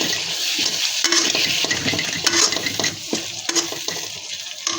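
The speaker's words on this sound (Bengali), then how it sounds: "এখন দিয়ে দেবো বাঁশপাতা শুটকি" Bamboo-leaf dried fish (banshpata shutki) is stir-fried in a cooked-down spice paste in a pan. A steady close sizzle runs throughout, broken by repeated scraping and clinking strokes of a utensil against the pan.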